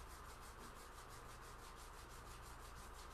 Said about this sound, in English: Rubbing your hands together once again.